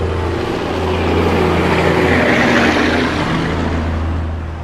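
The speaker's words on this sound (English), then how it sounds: "Aviation activity" Aircraft noise at Grand Cayman airport, a steady loud engine drone with a low hum that swells to a peak midway and then eases off, with no talk heard.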